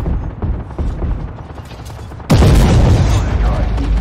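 A high-explosive shell fired from a tank gun in an Object 490 tank game: faint rumbling action gives way to one loud, close boom that rings out and stays heavy for the rest of the moment.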